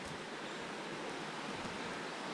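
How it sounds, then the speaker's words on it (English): A river far below a high cable suspension bridge near a waterfall campground makes a steady, even rushing wash that stays constant and fairly faint, with no voices. "river's down below."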